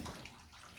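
Water running and splashing over a soapy dog during a bath, a brief, soft, steady rush with some sloshing, faint and close.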